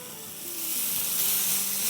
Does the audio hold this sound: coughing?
no